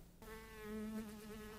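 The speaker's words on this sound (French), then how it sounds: "Cette mouche est un problème majeur pour nous." A housefly buzzes close by with a steady, droning whine that wavers slightly in pitch, alone with no talking.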